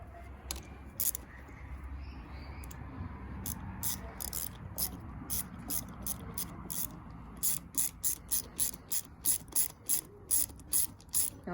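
Ratchet wrench tightening gearbox sprocket bolts on a motorcycle in a cross pattern, with bursts of clicking pawl strokes, sparse at first and then a fast regular series near the end, heard close over faint background.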